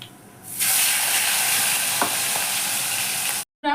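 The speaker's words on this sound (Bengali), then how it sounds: "আমি মাছগুলোকে একটু লাল লাল করে ভেজে নিয়েছি।" Bata fish pieces fry in hot oil with a loud, steady sizzle that starts abruptly and holds throughout, a few faint utensil clicks in the middle, then cuts off at the end.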